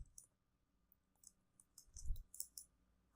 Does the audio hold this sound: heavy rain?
no